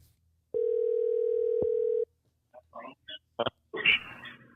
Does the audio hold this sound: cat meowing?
no